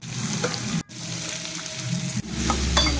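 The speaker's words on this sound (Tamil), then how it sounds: "கடை வச்சு வெண்ணெய் போட்டுக்கலாம்" Butter sizzles and crackles loudly in a kadai for paneer bhurji, broken twice by short scrapes or gaps, with steady frying throughout.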